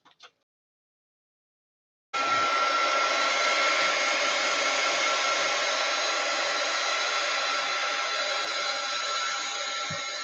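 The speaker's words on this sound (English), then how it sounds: "we're going to heat gun this to get it to dry" A heat gun drying a napkin craft project: after two seconds of near silence it switches on into a loud, steady, close blowing whoosh with a constant whine that continues to the end.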